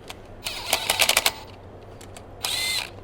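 Bolts being snugged up, not torqued, during a clutch install on a Nissan 300ZX Twin Turbo: two close bursts of rapid mechanical clicking, a longer rattling run followed by a shorter steady one after a pause.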